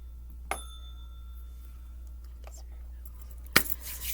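A small hand bell struck once with a bright ringing tone that lingers, then a second sharper strike a few seconds later, heard over a quiet room with low hum.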